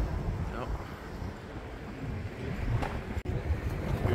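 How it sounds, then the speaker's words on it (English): Wind on a bridge in Istanbul, gusting as a low, rumbling buffet against the microphone, steady throughout with a brief dropout, with faint background sounds beneath. "It's really windy out too."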